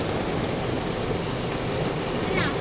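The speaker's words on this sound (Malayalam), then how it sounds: "നോക്ക്, നല്ല മഴ." Heavy rain pours down steadily in a dense, even roar that stays loud and unbroken for the whole moment.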